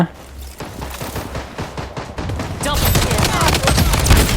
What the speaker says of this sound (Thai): เสียงปืนนะ